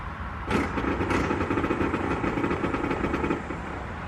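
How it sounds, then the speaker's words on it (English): Boost control solenoids click in the engine bay of a turbo LS Fox Body Mustang with Holley Terminator X and CO2 boost control, a rapid ticking pulse under a loud running engine rumble. "the solenoids out in the engine bay clicking"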